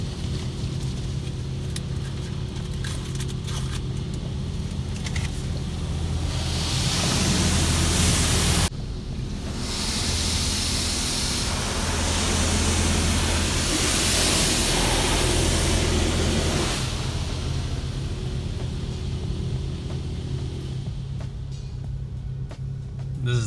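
Water spray rinsing a BMW 335i, a steady broadband hiss lasting about twenty seconds with a brief drop near the middle, close and fairly loud with no talking.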